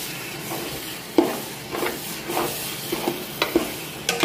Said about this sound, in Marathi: ग्रेव्ही मारताना याला कंटिन्युअसली हलवणं, म्हणजे कांदा आणि टोमॅटो हलवत राहणं महत्त्वाचं आहे.